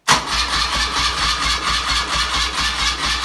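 A BMW R100RT motorcycle engine held at full throttle gives a steady, loud, throbbing roar with a rapid low pulse, running continuously without pause.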